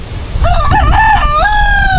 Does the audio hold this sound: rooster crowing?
yes